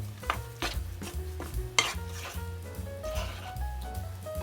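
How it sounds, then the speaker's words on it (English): Pumpkin muffin batter stirred in a bowl, with repeated scraping and knocking strokes of a spoon against the bowl in a steady rhythm, close and fairly quiet. "So, you just keep stirring this until you've got it good and combined."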